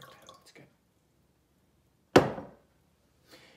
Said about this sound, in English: Can you pour some sin into Clara?